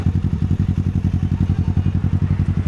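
A Kawasaki Ninja 650 motorcycle pulls away from a traffic signal, its engine throbbing in a loud, steady rapid pulse close by.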